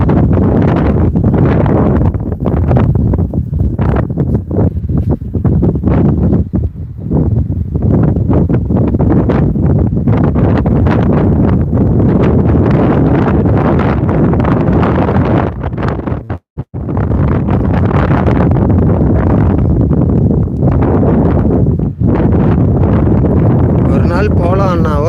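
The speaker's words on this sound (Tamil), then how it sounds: "பயங்கரமாக காத்தடிக்குது மக்களே" Strong wind roars steadily across an outdoor seaside spot where waves are breaking, buffeting the microphone in a loud, continuous rush with gusty surges and one brief drop near the middle; voices are faintly mixed in.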